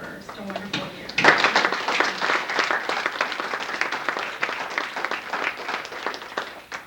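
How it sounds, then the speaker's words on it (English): Audience applause at a 1996 Pan-Afrikan celebration at Augsburg breaks out after a short pause and continues as dense, steady clapping for several seconds, loud and sustained, with a few voices mixed in, before slowly thinning toward the end. "give ourselves a round of applause for just a wonderful year"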